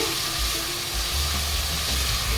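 Onion paste fries in hot oil with panch phoron for an old-style chicken curry, giving a steady, close sizzle that hisses continuously with no talking.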